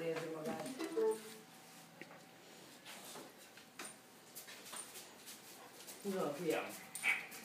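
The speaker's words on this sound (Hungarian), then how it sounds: "Nem, mert nagyon boldog kutya." A happy dog whimpers and gives short yips in a quick uneven series, nearby and moderately loud, while a person speaks over it now and then.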